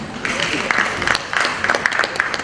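An audience applauds at a graduate sales training session, with scattered claps that rise and fall in bursts over a steady background of voices and crowd noise.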